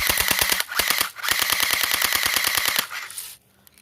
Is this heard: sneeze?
no